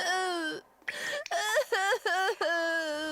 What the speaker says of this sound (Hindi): रोने की आवाज आई।